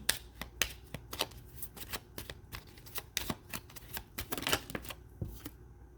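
Tarot cards being shuffled during a personal reading: quick, crisp riffling and flicking in a steady run of close, fairly quiet bursts, with no talk.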